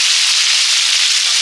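Whole garam masala spices sizzle in hot refined oil, a loud, steady, close frying hiss that fills the short moment without pause or voices.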